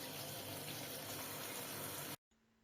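Tomatoes being rinsed under a running tap, a steady broadband rush of water pouring close by for about two seconds before cutting off abruptly, with no voices.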